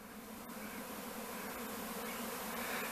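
Honeybees swarming out of a crowded hive in northeast Tennessee make a dense, steady buzzing drone, fairly faint and unbroken throughout.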